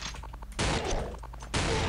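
Hecate Umbra sniper rifle firing in the online shooter Counter-Strike Online: two loud, full-band blasts about a second apart, each ringing on for nearly a second, with quieter game sounds in the gaps.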